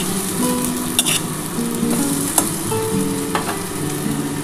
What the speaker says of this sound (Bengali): দেখো ভালো করে আমি এটা ভেজে নিলাম